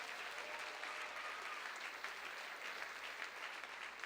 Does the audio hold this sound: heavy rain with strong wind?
no